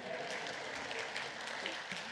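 A church congregation at a Sunday English service claps steadily, a soft, distant wash of applause lasting a couple of seconds.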